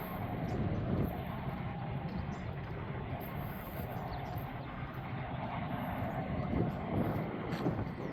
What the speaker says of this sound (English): That is one super long train.